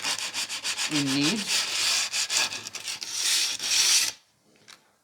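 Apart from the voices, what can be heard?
sandpaper sanding sharp glass edge of planter pot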